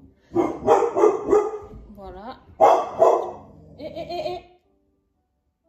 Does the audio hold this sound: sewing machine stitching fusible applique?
no